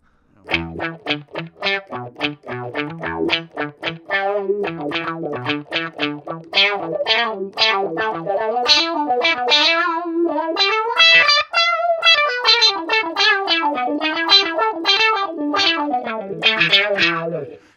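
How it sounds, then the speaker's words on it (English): Distorted electric guitar through a Boss Katana 50 amp's auto wah effect plays a quick run of notes, the tone opening and closing with each note, loud, close and a little harsh. "And an auto wah, love it. A little bit harsh though."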